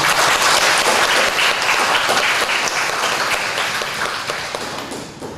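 Loud, close applause fills a church during a Sunday worship service, the congregation clapping together in a dense burst that slowly thins and fades toward the end.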